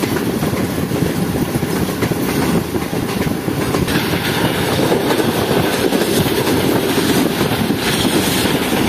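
Shah Hussain Express hauled by locomotive CH-46-00 running at speed on the rails, a loud continuous rumble and roar with faint rhythmic clatter from the wheels, steady throughout, heard from on board.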